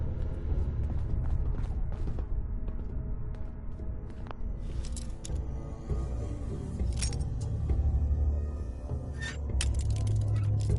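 A door in a video game opens after a terminal is hacked, giving a steady mechanical rumble with creaks, clanks and ratcheting, a few metallic clicks and jangles on top, moderately loud and continuous throughout.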